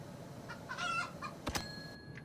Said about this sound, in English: Love that the roosters and the chickens make different sounds.